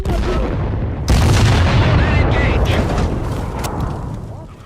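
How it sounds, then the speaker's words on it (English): Explosion in the video game Sniper Ghost Warrior 3, a loud booming blast that starts abruptly and rumbles on for several seconds with debris-like crackle, mixed with other game action. "Explosion on the perimeter!"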